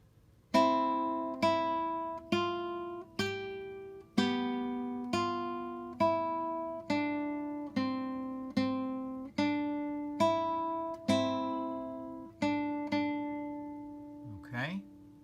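A guitar plays a short melody with harmony notes, about eleven evenly spaced plucked strikes that each ring and decay, close and fairly quiet, followed by a brief sound at the end.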